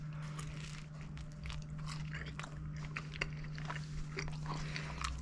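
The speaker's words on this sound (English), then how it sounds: "You can feel the cheese stretching as you bite into it." A warm cheese quesadilla dipped in cold salsa is bitten and chewed up close, with soft, repeated crunchy bites over a steady low hum.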